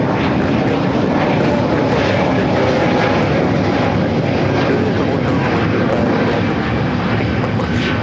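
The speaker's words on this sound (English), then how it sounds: "2526 taking off to Louisville on the A320neo." A Spirit Airlines Airbus A320neo taking off at LAX, bound for Louisville: a loud, close, continuous engine roar that stays at full strength throughout and is heard on its own without talking.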